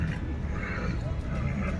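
A pure white horse at the Sarangkheda horse fair whinnies amid a busy crowd, the neigh close and brief, mixed with steady background chatter and people talking nearby.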